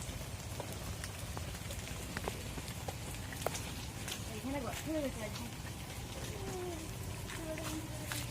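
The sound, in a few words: rain falling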